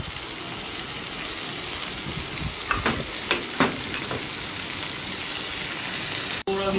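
Mushrooms for chicken cacciatore sauté in a pan with a continuous close sizzle, broken by a few sharp stirring scrapes midway and a brief clatter near the end.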